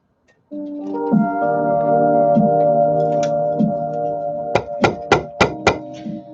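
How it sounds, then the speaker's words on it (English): A steady metallic ringing tone with a few spaced strikes, then five quick, sharp hammer blows in a row near the end. "we're going to hammer it."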